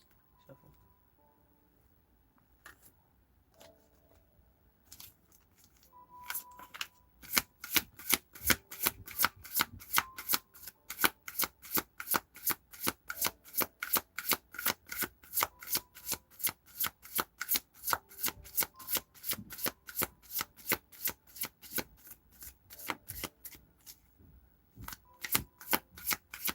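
Tarot cards being shuffled by hand: quiet rustles at first, then a long, steady series of crisp riffling bursts repeating close up at a regular pace, with no one speaking.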